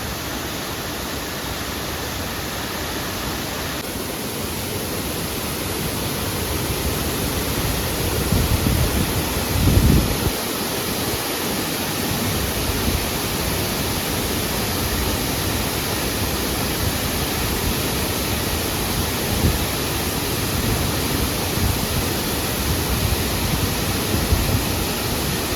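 Savadav waterfall in the Konkan roaring as a broad, steady wash of rushing water that holds for the whole span, loud and constant with small surges and no voices.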